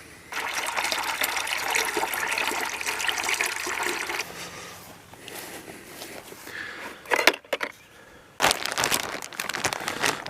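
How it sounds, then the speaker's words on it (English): Water gushes and splashes over hickory wood chips in a container as they are soaked at a backyard barbecue, with a rushing pour, a quieter stretch of trickling and brief crinkling, then another burst of running water. "I always soak my hickory chips in water."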